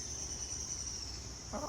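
Hens clucking in a coop, with a soft steady background hiss and faint insect-like whine, then a short nearby cluck near the end.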